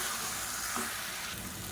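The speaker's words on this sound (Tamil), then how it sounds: "சேர்த்துட்டு நல்லா வதக்கி விட்டுக்கலாம்" Chicken and potato in a pan with freshly added ground coconut paste, stirred and sautéed as a side dish for idli and dosa. A steady, close sizzle runs throughout with faint scraping of the stirring.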